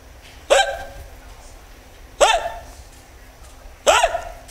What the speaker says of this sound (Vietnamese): Không khóc không, tôi nấc hoài.